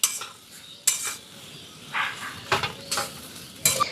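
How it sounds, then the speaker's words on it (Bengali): Potatoes are stirred with spices and green chilli in a pan, with a soft sizzle under a handful of distinct scraping, clinking spatula strokes at an uneven rhythm, heard close up. "সব কিছু দিয়ে মশলাগুলোর সাথে আলুটাকে খুব ভালো করে এইভাবে মিশিয়ে নিতে হবে।"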